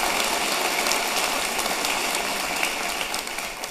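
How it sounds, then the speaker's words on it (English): A dense, steady wash of audience applause for an a cappella group fills the space, loud and unbroken, with no voices rising above it. "let's give them a round of applause"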